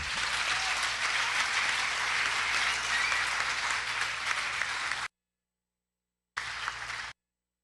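A hall audience at a school academic awards ceremony gives the robotics team a dense, sustained round of applause. It cuts off abruptly, then returns briefly in a short burst.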